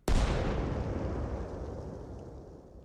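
A mortar round bursts in Arma Reforger: one sudden, loud, close blast with a deep boom that rolls away into a long, fading rumble over a few seconds.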